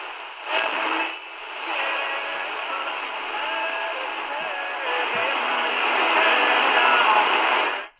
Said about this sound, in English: Sounds like country music.